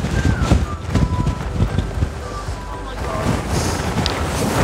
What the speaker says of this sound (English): Whoa! Windy!